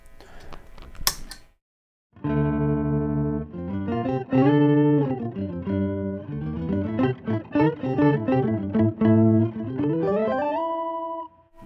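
Electric guitar played through an Earthquaker Devices Pitch Bay pitch and fuzz pedal, with a short scratchy strum, then sustained fuzzy chords and a run of rapid overdriven notes with octave harmonies, loud and alone.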